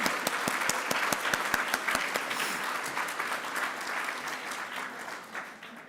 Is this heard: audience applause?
yes